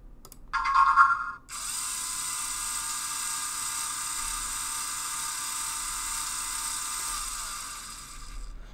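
A LEGO EV3 motor starts with a brief rising whine and then runs continuously at a steady, fairly loud high-pitched hum, easing slightly near the end, with no voices.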